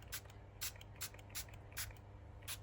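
Short bursts of Lost Shadow colour spray misted over craft paper, about six quick hissing puffs in a steady rhythm, close and fairly quiet over a low background hum.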